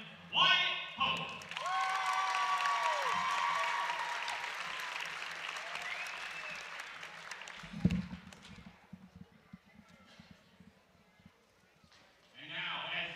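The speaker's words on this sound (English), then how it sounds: "let's give a huge round of applause" Crowd applause and cheering fill a high school senior night for the Woodward team, a sustained clapping roar that fades out over several seconds. An announcer speaks at the start and again at the end.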